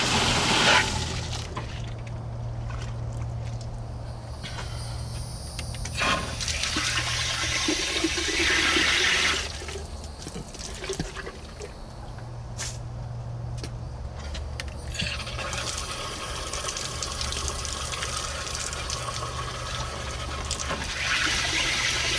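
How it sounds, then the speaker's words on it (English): Water rushes through a whole-house filter housing after a red valve is opened, a steady broadband gush that swells and eases in several bursts over about twenty seconds, with no voices. "I just open up that red valve and turn the water on, and it helps to dislodge anything else that might be up inside of the housing."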